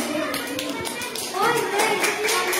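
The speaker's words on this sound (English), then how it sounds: "Everybody clap for Raima." Children in a classroom clap together for a classmate, a steady patter of small hands that swells louder partway through, with a teacher's voice and kids' chatter mixed in.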